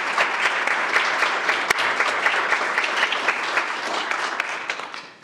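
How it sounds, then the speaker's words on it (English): A room applauds city council candidates at the close of a League of Women Voters candidates forum, steady, full clapping lasting several seconds before tapering off. "Please give them a round of applause."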